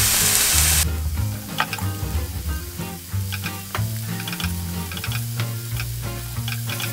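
Fennel, mushrooms and carrot stir-frying in a pan for a vegan tomato sauce: a loud, steady sizzle with repeated scraping and tossing strokes throughout, no voices.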